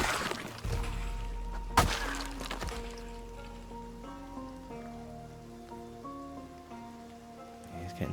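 Steady rain patters on surfaces in the Project Zomboid game, a soft, continuous hiss behind tonal music notes, with one sharp knock early on.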